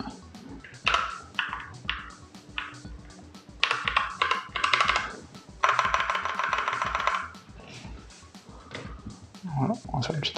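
A Geeky GK61 mechanical gaming keyboard clatters in bursts of rapid key presses with short pauses between flurries, close and moderately loud, with a voice speaking underneath.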